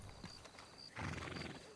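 A horse in the Red Dead Redemption 2 video game gives a short neigh and stamps its hooves, fairly faint and brief against a busy game soundscape.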